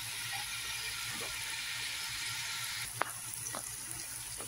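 Ginger garlic paste and spices frying for mutton keema, a steady close sizzle throughout with a few faint scraping stirs and a sharp clink near the middle.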